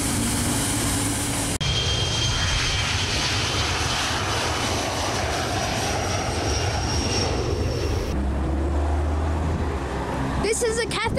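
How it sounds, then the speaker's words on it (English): Qantas Boeing 737-800 airliner in special livery at Sydney Airport, with loud, steady engine roar that fills the scene and shifts tone partway through, then brief clatter at the end. "there is a special Qantas 737-800. It's a special livery."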